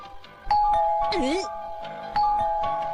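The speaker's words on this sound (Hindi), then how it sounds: "से निकलकर हमारे घर भी घंटी बजाने आ गया" A doorbell rings in a cartoon house with a ding-dong chime that repeats, a short tone near the start and another near the end. A high cartoon voice cuts in briefly between them.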